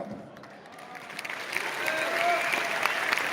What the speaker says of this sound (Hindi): इन लोगों की तालियों से इस बात का एहसास होता है कि आपके लिए ये आत्मा से, दिल से ताली मार रहे हैं